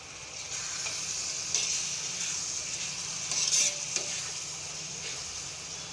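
Steady sizzling of onions frying in a hot pan for egg masala, with occasional stirring scrapes and soft clinks.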